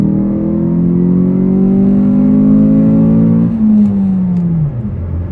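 Ford Focus fitted with an electric exhaust cut-out valve, heard from inside the cabin with windows up and the valve closed, accelerating to 60 mph: a loud, steady engine drone rising in pitch, then a gear change and a lower hum.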